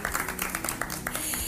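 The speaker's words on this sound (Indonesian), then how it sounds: "Tepuk tangan dong." Short burst of audience applause at an Islamic Ramadan travel talk show, a dense patter of hand claps filling the moment after the host's prompt, moderately loud and continuous.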